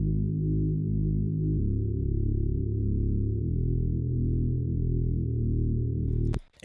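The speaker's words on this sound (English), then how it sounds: "it's basically like a filtered saw bass type thing" A Future Dark Bass synth patch played as a filtered saw bass with its top end trimmed by EQ, holding low sustained notes that step down in pitch every second or two, steady and loud, ending in a brief click.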